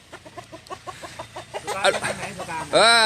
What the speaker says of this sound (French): ces fameux coqs de combat.